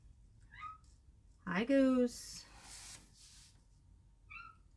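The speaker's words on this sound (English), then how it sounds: "He's such a weird little cat." A cat meows loudly up close in a single drawn-out, rising and falling call, with a person's brief greeting spoken just before it and faint chirpy sounds at the start and end.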